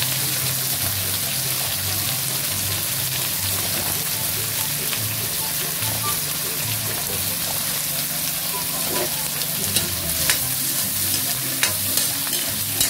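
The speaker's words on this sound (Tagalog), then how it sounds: "Lagay natin ating hipon. Ating maliliit na hipon." Small shrimps for a guisado frying in a pan: a dense, continuous loud sizzle and crackle throughout, close and steady, with a few sharper pops and scrapes toward the end.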